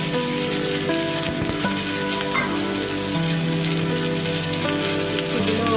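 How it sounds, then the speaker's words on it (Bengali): Cut bitter gourd pieces hiss and crackle in hot oil in a pan, a dense continuous sizzle that stays loud throughout. "এবার আমি তেলটার মধ্যে কেটে রাখা উচ্ছেগুলো দিয়ে দেব।"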